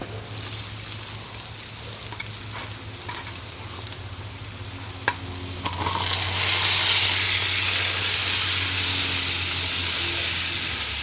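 Sliced mushrooms hit hot bacon grease on an outdoor Firedisc cooker, a few scrapes and clanks giving way to a loud, steady hiss of frying that swells and holds close up.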